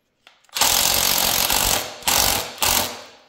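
Screw being fitted through Polisport plastic swingarm protectors on a 2024 KTM TBI Six Days motorcycle: close, loud grinding mechanical bursts, one long run followed by two shorter ones.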